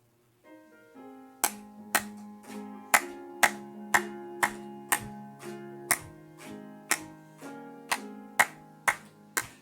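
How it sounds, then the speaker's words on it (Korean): A church congregation clapping along to a joyful hymn during a Korean worship service, sharp rhythmic claps at a steady beat over sustained organ or keyboard chords, with no talking. "91장 기쁨과 소망 가지고 박수치면서 찬양합니다"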